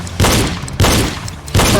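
Three loud pistol gunshots during a reload drill, evenly spaced about two-thirds of a second apart, each a sharp close blast with a ringing tail.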